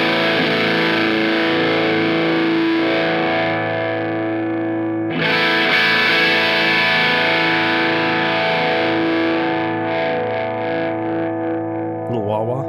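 Electric guitar through a Tuller Audio Moon Jelly Overdrive with the mids cranked: loud sustained overdriven chords ringing out, a fresh strum midway, then the tone swells and wavers before a final attack.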